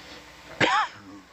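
A single short sneeze bursts out sharply against a quiet background aboard an ocean research dive expedition.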